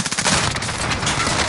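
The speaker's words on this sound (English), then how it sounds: "I got the shotgun out, ready to go." Shotgun fire in a multiplayer first-person shooter, with a loud, dense burst of gunfire filling the whole short stretch, close and continuous.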